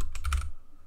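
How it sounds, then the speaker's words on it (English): A quick flurry of keystrokes on a computer keyboard, about five light clicks in rapid succession, close and clear over a low background hum. "go to your search bar, type in restore"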